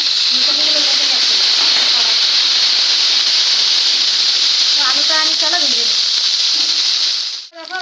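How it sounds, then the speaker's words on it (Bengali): Potatoes fry in oil with a loud, dense, unbroken sizzle close by, while a voice talks briefly over it. "তেলেই আলুগুলো ভেজে নেবো"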